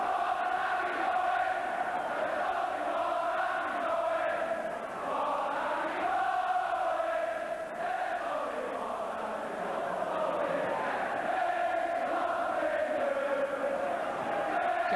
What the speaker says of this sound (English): here's his name echoing around the crowd at that end of the stadium